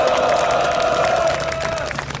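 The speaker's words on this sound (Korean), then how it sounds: "박수로 오십시오." A crowd at an SK Broadband non-regular workers' union rally outside Uijeongbu prison claps to welcome the next speaker, a dense burst of applause over a sustained tone, fading slightly toward the end.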